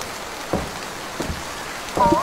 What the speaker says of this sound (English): It's bucketing down outside.